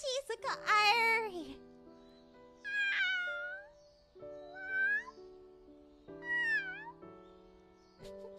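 A high voice imitates cat meows, and a cat answers with several drawn-out, rising and falling meows in alternating calls, all close and fairly loud.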